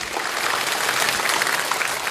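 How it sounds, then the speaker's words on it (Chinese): A studio audience breaks into dense, steady applause, loud and continuous throughout with no pauses and no talking over it. "来为她鼓掌"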